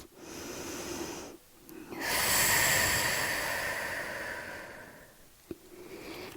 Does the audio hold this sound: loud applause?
no